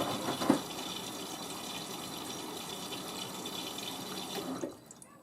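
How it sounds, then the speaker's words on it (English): Water gushes steadily into the drum of a Miele W562 Prestige Plus washing machine filling for its final rinse, a continuous rushing flow that fades out near the end, with no talking. "now we do the top up fill"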